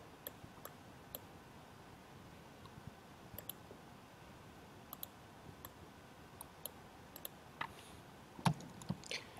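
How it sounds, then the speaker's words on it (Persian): A computer mouse clicking quietly in short, sparse single clicks spread over several seconds against a soft background hiss, with a slightly louder burst near the end. "روی این MLS کلیک میکنم"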